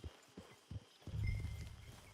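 Hooves of a horse in the video game Red Dead Online clip-clop in a few separate strikes, then a louder, denser rumble of movement builds up close.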